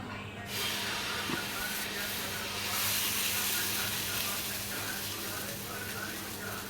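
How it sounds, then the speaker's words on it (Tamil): Dosa batter made with mudakathan greens hits a hot pan and sets off a loud, steady sizzling hiss that runs unbroken throughout, close by, with no talking. "நான் தோசை ஊற்றி உங்களுக்கு காமிக்கிறேன்"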